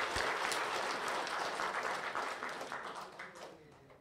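A crowd applauds warmly, a dense wash of many hands clapping that holds steady and then slowly tapers off.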